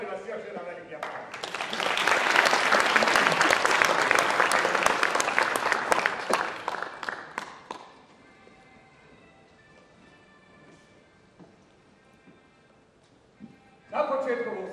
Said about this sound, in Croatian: Molim vas još jedan veliki aplauz.